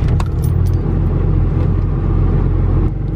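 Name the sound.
car engine at high idle after cold start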